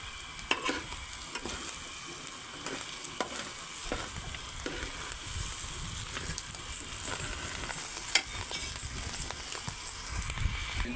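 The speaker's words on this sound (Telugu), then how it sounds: "చూడండి ఆమ్లెట్ లాగా అవుతుంది కొంచెం స్టవ్ సిమ్లో పెట్టుకొని ఎగ్ మొత్తం కలిసేలాగా ఒకసారి కలుపుకుందాం" Eggs frying in a pan on a low stove flame for a village-style Telugu onion, green gram and egg curry, with a steady sizzle and repeated scraping stirs throughout, no talking.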